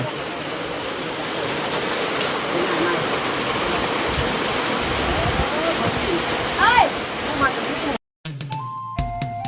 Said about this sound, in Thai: โอ้พายุเข้า